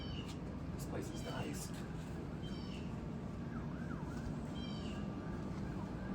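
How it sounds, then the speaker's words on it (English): Faint sirens wail from far off, with rising and falling tones repeating over a steady outdoor hush along a trail. A person talks over them. "those sirens in the distance."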